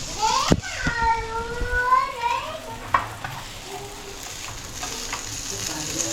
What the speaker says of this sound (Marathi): सर्व मच्छी फ्राय झाली